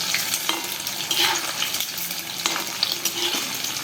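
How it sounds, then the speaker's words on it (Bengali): Loud, steady sizzling of chicken frying in hot oil on a high gas flame, with occasional scraping clicks from a spatula stirring the pan. "এবার আমরা চিকেনটাকে গ্যাসের আঁচ বাড়িয়ে ভাজবো খুব তাড়াতাড়ি।"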